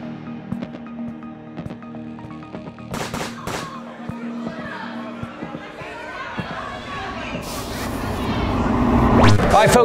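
Gunfire at Governor's Gun Club, an indoor shooting range in Kennesaw, Georgia: sharp, loud shots, some alone and some in quick bursts, over background chatter and a rising hum.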